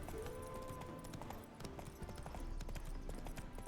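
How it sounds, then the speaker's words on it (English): Horses gallop in a race in The Witcher 3, hooves drumming in a dense, continuous clip-clop that stays loud and close, with a faint voice briefly over it. "Oh, they're having a horse race."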